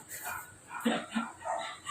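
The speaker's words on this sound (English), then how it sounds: "here's the dogs saying" Dogs bark a few short, muffled yaps, faint and somewhat distant, over a low noisy background.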